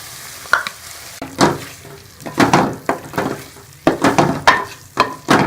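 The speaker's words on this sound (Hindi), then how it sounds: "अब इसके अंदर ये मैं क्रीम डाल दूँगी और इसको अच्छी तरह से भून लेंगे" Beef karahi with cream being fried and stirred in a pan: repeated scraping stir strokes over a steady sizzle, loud and close, with no talking.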